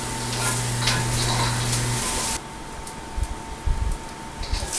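Shrimp stir fry with cauliflower rice sizzling steadily in a hot pan, a continuous close frying hiss with a brief low hum early on, then quieter sizzle broken by a few soft stirring knocks.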